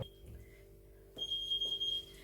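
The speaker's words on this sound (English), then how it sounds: "That is the sound of the oven finished." Kitchen oven timer signalling that baking is finished, with steady high electronic beeps, faint and close, under quiet background noise and no speech.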